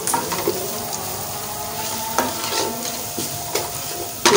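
Spices frying in a pan for urad daal, a steady close sizzle with occasional stirring scrapes and clinks, no talk.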